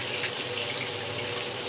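Tap water runs continuously into a sink while fish are washed in a home kitchen, a steady close splashing rush with no pauses or talking.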